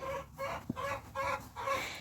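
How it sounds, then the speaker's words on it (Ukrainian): A rooster calls out in a few short, nasal clucking bursts, fairly close, with a brief bump in between. "Це півник з вами вітається"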